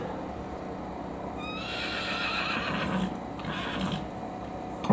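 Horse neighs once in a loud, drawn-out whinny, with faint hoof clops and outdoor background around it.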